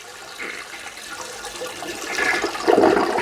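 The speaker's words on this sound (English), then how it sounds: "It looks better when I flush it down" A toilet flushes with cleaner added to the tank, water rushing and gurgling at close range and building louder toward the end, with no voices.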